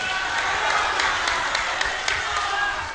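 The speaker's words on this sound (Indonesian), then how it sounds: "Tepuk tangan untuk kita semua." An audience at a debate between candidates for regent and deputy regent of Pasaman, Indonesia, applauds, giving a dense, steady wash of clapping from a crowd that holds for a few seconds before easing off at the end.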